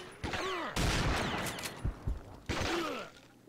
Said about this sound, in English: Oh, I'm being shot at by Americans.